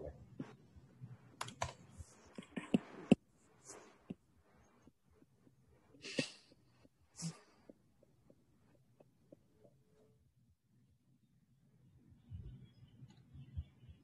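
Typing on a computer keyboard during a finance lecture: bursts of close, quick key clicks with a few harder taps, pausing and resuming, fairly quiet, with a low hum beneath.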